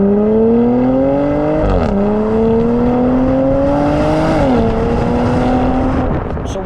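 Porsche Macan GTS engine singing steadily through corners, a loud sustained tone rising and easing as the throttle shifts, with a couple of brief dips between pulls.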